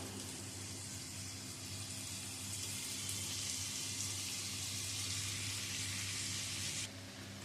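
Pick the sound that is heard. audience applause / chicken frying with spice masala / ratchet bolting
chicken frying with spice masala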